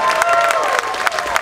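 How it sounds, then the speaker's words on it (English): A crowd at a country music concert opening set claps and cheers in a brief burst, with distinct claps over a sustained tonal background, fairly loud and near. "Y'all give them all a huge round of applause."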